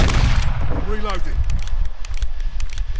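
Lever-action rifle fire in Modern Warfare 2 (2022), a loud burst of gunshots and mechanical clatter in the first second, then action racking and scraping under a man's speech.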